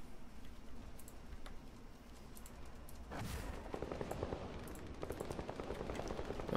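Rapid automatic gunfire rattles in a Vampire: The Masquerade - Bloodhunt team deathmatch, with dense bursts of shots that grow busier and louder in the second half.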